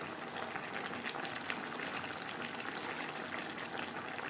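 Vegetable stalks and pumpkin pieces cooking with salt and turmeric for a pui shak dish, a soft continuous bubbling and simmering close by, faint and even with no voices.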